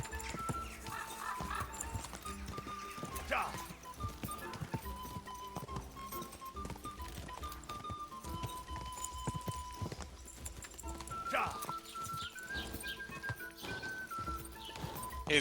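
Horse hooves gallop in Kingdom Come Deliverance 2, a fast continuous clip-clop close by under music, with brief whinnies and some faint voices.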